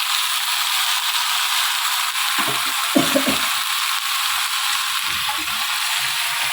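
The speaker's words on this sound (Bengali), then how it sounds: "এটাকে ভালো করে ভেজে নেব।" Marinated young mutton pieces fry in a pan with turmeric and spices for kosha mangsho. The steady hiss of hot oil runs throughout, and a few louder scrapes and clatters from stirring break in around the middle.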